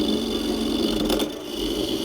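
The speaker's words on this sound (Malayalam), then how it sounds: "ഇതിപ്പോൾ ഞാൻ ചിരവാൻ പോവുകയാണ്" An electric coconut scraper grates coconut with a steady, close mechanical whir and a high motor whine, briefly dipping in load partway through, with no talking.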